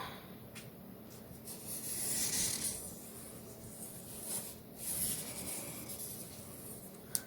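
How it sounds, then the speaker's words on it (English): A Sharpie marker draws on clear plastic for a DIY button, producing faint, close squeaky rubbing strokes in short bursts over a quiet room background. "This is when you're going to use the Sharpie, so you can draw on the plastic."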